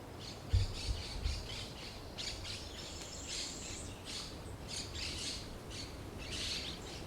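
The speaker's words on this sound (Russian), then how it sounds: "слушаете птиц" Birds squawk and chirp repeatedly against a soft outdoor background at a campsite on the Argentine ocean coast, with a few low thumps near the start.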